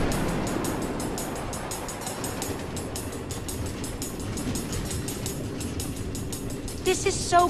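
A train rolls along automated tracks in the Nether in Minecraft Story Mode, a steady rumbling with rhythmic clicking throughout and a brief louder burst of sound at the end.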